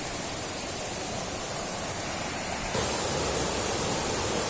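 A stream at the foot of Kolli Hills rushes and bends past close by, a steady, dense wash of flowing water that grows slightly louder partway through, with no voices.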